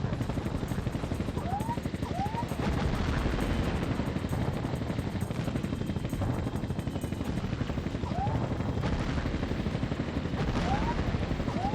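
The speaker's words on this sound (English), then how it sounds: "Now these helicopter levels were some of my favorite playing this game." Helicopter level in a video game running on an old IBM G40 laptop: a steady, loud rotor chop fills the scene, with bursts of in-game gunfire and occasional short whistling effects.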